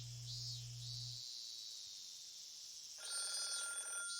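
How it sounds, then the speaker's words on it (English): A telephone rings in the Higurashi Kai: Matsuribayashi video game, with electronic ring bursts separated by a short gap, set over faint background tones. "The phone rang for over 3 minutes."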